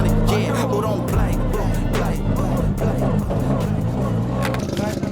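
A race car in a CarX Motorsport pre-season test drives with a steady, loud engine drone throughout, blended under music and a voice.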